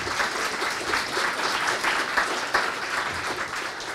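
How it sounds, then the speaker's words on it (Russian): A hall audience applauds at the opening of a spring graduate project defense event, a steady, dense wash of many hands clapping that holds for the full stretch with no pause. "Давайте друг другу похлопаем."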